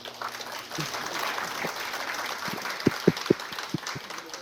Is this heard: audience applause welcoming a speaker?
yes